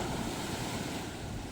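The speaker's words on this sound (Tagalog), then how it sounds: "Malakas lang talaga yung alon" Strong ocean waves surge and break steadily at the North Shore beach in Baler, Aurora, a continuous close roar of surf mixed with wind buffeting the microphone.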